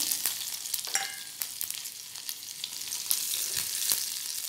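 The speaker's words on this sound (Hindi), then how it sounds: "आधा चम्मच घी और डालेंगे और इसमें हम आधा छोटा चम्मच जीरा और दो हरी मिर्च इसमें डाल देंगे" Cumin seeds and green chilies sizzle in hot ghee, a steady bright crackle with sharp pops and occasional stirring clicks, close and alone without talk.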